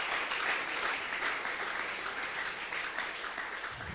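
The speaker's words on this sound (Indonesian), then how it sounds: "Give God clap" A church rally congregation claps in praise, a dense steady wash of applause from many hands filling the hall for a few seconds, with faint voices underneath.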